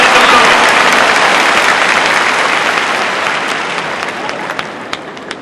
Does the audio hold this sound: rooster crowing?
no